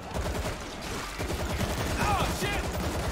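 Gunfire rattles in the zombie shooter World War Z as dense, rapid bursts of shots fill the whole moment, with faint voices mixed underneath.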